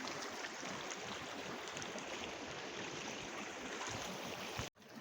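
Waterside ambience in alpine country, a steady broad wash of flowing water, soft and continuous, with a brief cut near the end.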